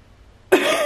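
A single sharp, loud cough from a person speaking, close to the microphone and heard alone with no talk over it.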